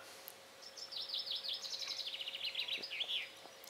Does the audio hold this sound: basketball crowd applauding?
no